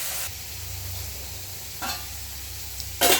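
A pot lid lifts off simmering shrimp with vegetables and greens, giving a short clatter near the end over a steady low bubbling and sizzle, with a fainter knock partway through.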